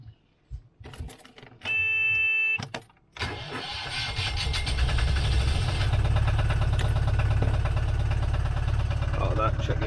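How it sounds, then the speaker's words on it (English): A boat's inboard engine, freshly serviced with a mid-season oil change, cranks after a few clicks and a short warning beep, then catches and settles into a steady, rumbling idle close to the microphone. "So it's time now to start the engine up."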